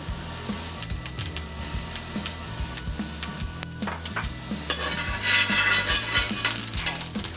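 Shallots, garlic, thyme and rosemary sauté in a pan with a close, lively sizzle. A utensil stirs and knocks against the pan in repeated short scrapes, and no one talks.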